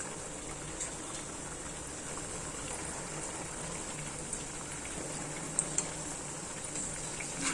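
Mupparuppu vadai, lentil fritters, frying in hot oil give a steady, fairly quiet bubbling hiss throughout, with a few tiny pops near the end and no voices.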